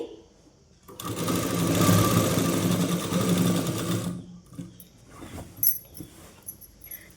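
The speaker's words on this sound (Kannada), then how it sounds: "ಡಬಲ್ ಪಟ್ಟಿನ ಸೀದ ಬಟ್ಟೆ ಮೇಲಿಂದ ನಾನು ಸ್ಟ್ರೈಟ್ಗೆ ಸ್ಟಿಚ್ ಮಾಡ್ಕೊತಾ ಇದ್ದೀನಿ" A sewing machine runs steadily for about three seconds, stitching a straight line along a double strip of petticoat fabric, loud and close, then gives way to quieter clicks and handling sounds.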